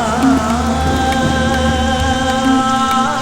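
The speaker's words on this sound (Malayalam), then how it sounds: "എന്ത് മഴയാ അച്ഛാ ഇത്." Heavy rain in a Malayalam film scene, a steady, dense downpour hissing evenly throughout, set against sustained tonal music.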